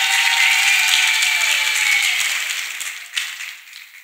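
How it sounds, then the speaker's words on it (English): Congregation applauding at a church testimony service, a dense wash of clapping that starts loud and gradually thins and fades away over a few seconds. "can you clap for Master Jesus once again?"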